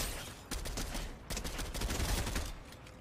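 Video game gunfire rattles in quick, fairly quiet volleys, with short pauses between clusters of shots and steady background game noise.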